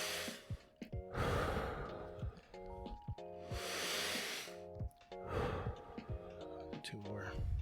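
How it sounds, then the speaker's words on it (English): Heavy, forceful breathing during a push-up workout, with repeated sharp inhales and huffing exhales in a rough rhythm, close to the microphone, under a faint tonal background. "I'm going to focus on breathing."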